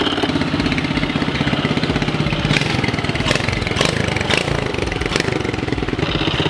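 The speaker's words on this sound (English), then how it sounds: "We'll get this pit bike all warmed up" A pit bike engine warms up with a loud, close, rapid, even putter, with a few brief sharp clicks or blips partway through.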